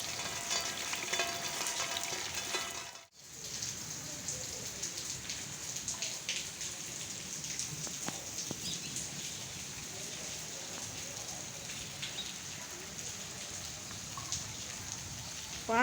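Steady rain with wind in a village during a storm, a dense continuous hiss of falling drops with a brief dropout near the start, then constant patter throughout and no voices.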